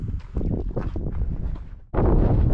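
Strong gusting wind of about 30 mph buffets the microphone on a steep hiking trail to Cassidy Arch in Capitol Reef, Utah, a dense continuous roar that drops off briefly near the end and then surges back even louder.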